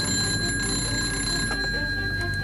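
A shrill alarm bell rings continuously at a steady high pitch, loud and close, with a faint clatter underneath, sounding a World War II air-raid alert.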